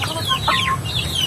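A broiler hen clucks close by in a farmyard coop, two short bursts of throaty calls over a low background rumble.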